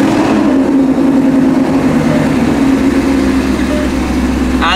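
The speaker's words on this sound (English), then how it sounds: "This is a warm startup on a 2014 Mustang GT with Corsa Extremes." Warm startup of a 2014 Ford Mustang GT with a Corsa Extreme exhaust: a loud, close, steady low rumble that holds at idle, with a faint voice over the engine.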